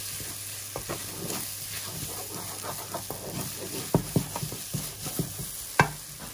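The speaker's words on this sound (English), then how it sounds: "We're just going to cook that egg out. So much scrambling in there." Egg scrambled in a wok for chicken and prawn yaki soba, a steady sizzle under scattered scrapes and taps of a utensil against the pan, growing a little louder toward the end, with no voices.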